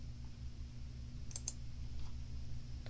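A computer mouse is right-clicked, giving a pair of quick, faint plastic clicks over a low steady hum, with one softer click afterward and no one speaking.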